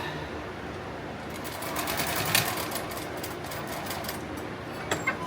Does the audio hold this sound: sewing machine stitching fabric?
yes